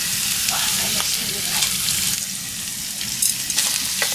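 Cabbage and onion sizzle loudly in a hot pan for Korean tteokbokki, a steady crackling fry with occasional stirring scrapes and a brief voice underneath.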